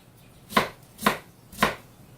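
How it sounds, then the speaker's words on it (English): Three evenly spaced knife chops through a white onion on a cutting board, sharp close thuds about half a second apart in a quiet kitchen. "I'm going to just chop that little guy off there, that brown part"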